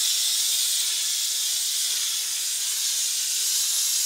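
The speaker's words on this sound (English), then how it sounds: "It's the steam that's doing the hard work." Vax steam cleaner working on kitchen floor tile grout, giving a continuous loud, close hiss of steam that stays steady throughout, with no talking.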